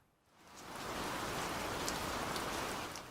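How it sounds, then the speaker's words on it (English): Rain in a garden storm pours down steadily in a dense, even hiss that swells in after a quiet start and stays loud to the end. "I heard rain fall,"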